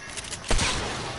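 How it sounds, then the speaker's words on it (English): Gunfire in a video game squad match, rapid shots with a loud burst near the middle, then a sustained noisy crackle continuing to the end. "they're shooting at me"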